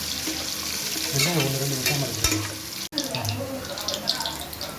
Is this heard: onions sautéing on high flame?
yes